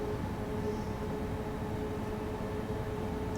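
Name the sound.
heavy BR 193 freight train in the video game Train Sim World 6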